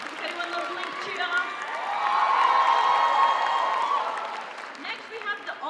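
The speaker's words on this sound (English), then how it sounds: "If anyone loves Link," A convention crowd at PAX Aus cheers and claps for a Link cosplay from The Legend of Zelda, the roar swelling to a peak mid-way and then tapering into scattered whoops and applause in a large hall.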